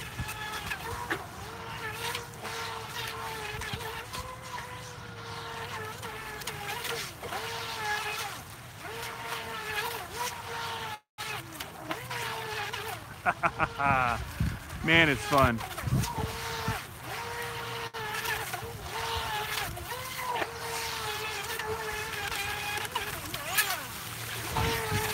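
A tiny 17-inch Atomik Barbwire 2 RC boat races back and forth on open water, its high buzzing motor whine rising and falling with splashing, while someone talks over it.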